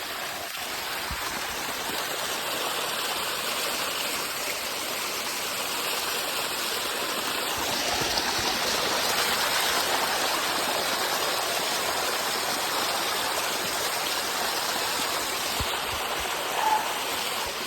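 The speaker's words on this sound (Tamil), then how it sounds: "நீர் ஊத்து, மழை பெய்யுது." Mountain spring water rushes and splashes steadily nearby, a continuous bright hiss flowing without pause, on a trek to Bhairavagad fort, Maharashtra.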